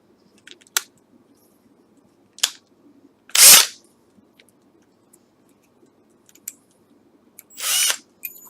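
Power drill working on a broken e-bike fork, short separate bursts of drilling with the loudest one in the middle and another near the end, set against near silence with faint clicks between.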